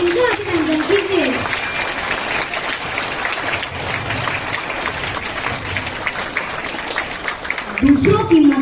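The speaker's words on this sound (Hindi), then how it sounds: "कृपया तालियों की गड़गड़ाहट के साथ उनका अभिनंदन कीजिए।" School audience applause at a Worker's Day celebration in New Delhi, a loud, continuous round of clapping framed by a speaker talking briefly at the start and again near the end.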